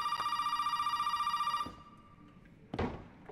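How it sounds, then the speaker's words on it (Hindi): A telephone rings in Resident Evil 7 Biohazard, a steady electronic ringing pulse lasting about a second and a half that then stops abruptly, followed by a brief clatter in a quiet room. "फिर फोन आया, किसका आ गया, कहाँ बज रहा है ये"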